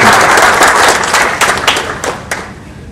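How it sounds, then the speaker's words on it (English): Dense applause from an event audience in Durban, loud and steady at first, then thinning out as individual claps become audible and fade. "round of applause for Dr. Jagmohan"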